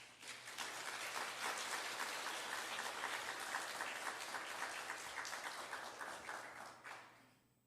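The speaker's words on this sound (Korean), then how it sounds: "우리 선교사님 나오실 때에 큰 박수로 환영하겠습니다." A church congregation at a Wednesday service applauds to welcome a missionary, a full, steady wash of clapping that swells quickly, holds for several seconds and fades away near the end, heard from a distance.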